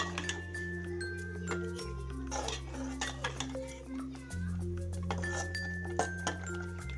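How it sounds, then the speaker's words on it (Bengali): A spoon stirs salt into red lentil dal with banana flower in a metal pot, making repeated clinks and scrapes against the pot over a steady background hum, with a voice audible at times. "লবণ, ভালো করে একটু নাড়াচাড়া করে দেব।"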